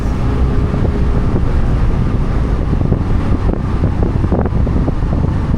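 A Suzuki DA64V minivan drones steadily from inside the cabin as it drives a pothole-ridden rural road in Palawan, a dense low rumble mixed with wind buffeting and occasional jolts, loud and continuous with no talk.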